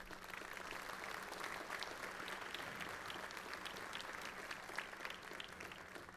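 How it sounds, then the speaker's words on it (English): Steady, dense applause from a large audience at a university spring commencement ceremony, continuous and even throughout with no voices rising above it. "Let's give them a round of applause."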